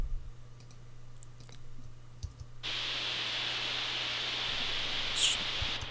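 An unfiltered noise synth note in Logic sounds as a steady, full-band hiss that switches on abruptly partway through and holds at an even level, preceded by quiet room hum and a few faint clicks.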